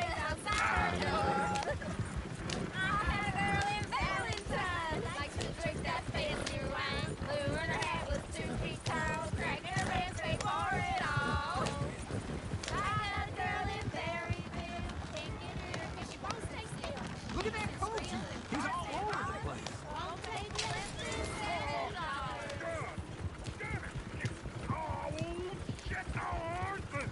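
Horse hooves clip-clop in the Red Dead Redemption 2 video game, a steady rhythmic trotting under continuous game dialogue and background sound throughout.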